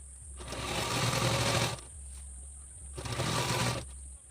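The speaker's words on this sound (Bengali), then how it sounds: "আমি প্রথমে চাপ সেলাই করে নেব" A sewing machine runs a straight stitch along a saree edge before a false border goes on, in two loud steady bursts of about a second each, with a quiet pause between them.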